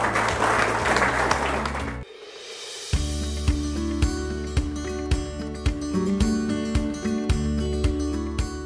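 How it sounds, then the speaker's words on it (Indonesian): Applause from an audience at a DPR RI parliamentary event in honor of TV Parlemen DPR, first a dense patter of many hands that breaks off, then continuing under loud music with a steady beat. "mari kita tepuk tangan untuk TV Parlemen DPR itu"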